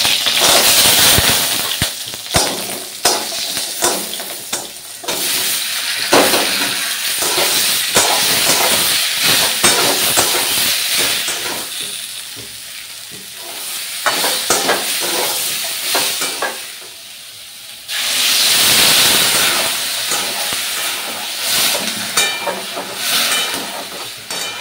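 Sun-dried lentil dumplings fry in hot oil with green chillies and five-spice tempering, a continuous sizzle and hiss broken by sharp spatters and stirring clatter, dipping briefly before surging loud again.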